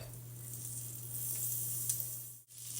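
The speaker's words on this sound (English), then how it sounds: "I'm going to go ahead and put in 3 more tablespoons of butter." Butter melting in a hot pan for a seafood bisque gives a steady, quiet sizzling hiss over a low hum, with a brief dip near the end.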